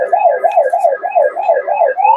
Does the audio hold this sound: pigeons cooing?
no